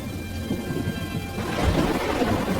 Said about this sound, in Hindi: आज फिर बहुत बारिश हो रही है